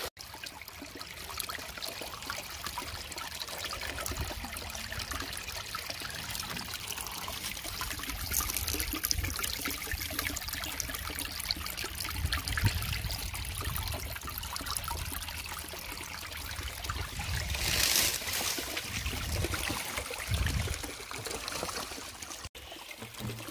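Shallow creek water trickles and gurgles steadily over stones at a gold-prospecting sluice spot, a continuous close wash of flowing water with no voices.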